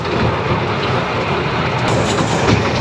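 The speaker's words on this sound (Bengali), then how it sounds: "আমাদের ট্রেনের সময় শেষ, স্টেশনে ফিরবে ট্রেন এখন।" A train rumbles along steadily from close by, a loud continuous roar with faint rhythmic clatter of wheels on the track.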